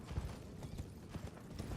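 Horse hooves clip-clop in a video game, a quick, faint run of soft thuds mixed with light mechanical clatter, continuous and low in level with no voices.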